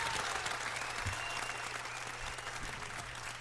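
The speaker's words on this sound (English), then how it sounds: "give it a round of applause, man, because she just walked in" Audience applause greets a performer walking onto a talk-show set, a steady dense wash of clapping that holds at an even, fairly loud level for a few seconds with no voices over it.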